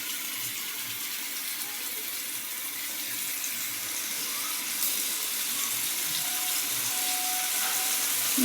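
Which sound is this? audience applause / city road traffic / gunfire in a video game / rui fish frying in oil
rui fish frying in oil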